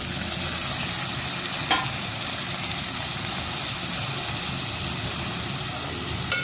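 Boiled cluster beans stir-fried in oil hiss with an even, constant sizzle close by, broken only by a couple of faint utensil clicks, with no talking.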